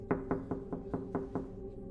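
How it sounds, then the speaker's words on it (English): Tapping on a wooden trap door at the top of a tower staircase: six evenly paced, hollow, resonant knocks, moderately soft and close, with no voices. "But then came the tapping. Not on the window this time, on the trap door beneath my feet."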